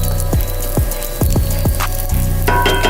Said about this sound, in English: Our pork, salted pork is crisping up nicely.